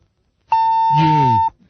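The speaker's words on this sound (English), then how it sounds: "you got to wait for the beep to end before you add the U" A radio studio censor beep sounds as one steady, loud electronic tone lasting about a second, with a voice talking over it toward the end.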